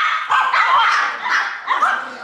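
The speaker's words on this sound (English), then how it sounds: "So the dogs are about to go play." Several dogs bark and yip excitedly indoors before going out to play in the snow, a string of loud, close barks overlapping in quick bursts with some high whining between them.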